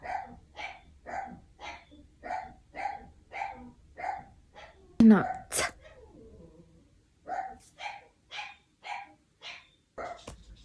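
A dog barks repeatedly in a steady rhythm of sharp, fairly close yaps, pausing briefly around a louder burst before resuming, with a short spoken word mixed in.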